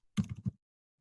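A quick burst of a few keystrokes on a computer keyboard, close and crisp, lasting under half a second before silence.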